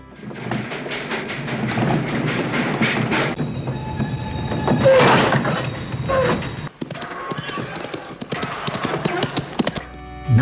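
A train runs along the rails in a Western setting, heading for New Orleans. Its dense, rhythmic clatter carries on steadily and fairly loud, with brief shifts and breaks in the texture partway through.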